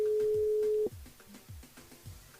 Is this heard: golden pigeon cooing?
no